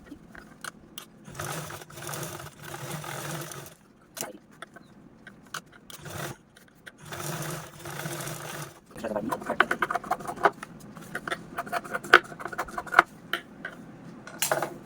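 A sewing machine stitches the edges of a fabric pouch in bursts of fast mechanical whirring, separated by pauses and handling clatter, while someone talks between runs.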